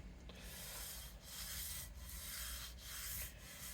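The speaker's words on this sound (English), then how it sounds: "Just always true up the bottom if you're using the belt sander to do that." A guitar saddle from a Martin HD-28 is trued on a belt sander with a faint, continuous gritty rasp that swells and eases in several short passes, close and with no talking.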